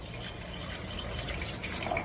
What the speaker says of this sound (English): We'll add rest of the warm water, keeping just a bit.